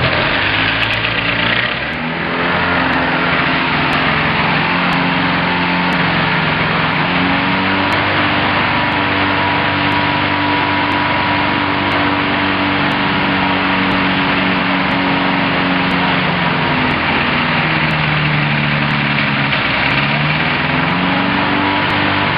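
A Thruster ultralight aircraft's propeller engine starts abruptly and settles into a loud, steady running drone with a slight pitch dip and recovery near the end, close by with no talk over it.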